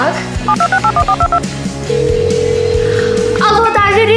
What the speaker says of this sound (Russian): Точняк, звоните Тайлеру.